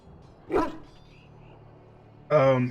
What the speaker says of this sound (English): This is a Mabari, smart breed and strong.